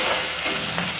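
Chopped onions frying in a pan while cooking a fish curry, giving a steady, close sizzle with faint crackles throughout and no voices.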